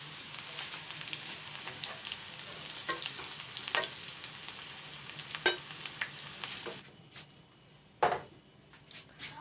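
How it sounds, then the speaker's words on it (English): Potatoes fry in a pan for garlic potato fry, a soft steady sizzle broken by several sharp clinks of a utensil, then the sizzle drops away near the end with one more knock. "Let the potatoes fry, the other side also."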